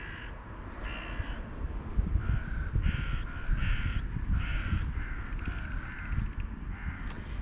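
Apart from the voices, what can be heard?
crows cawing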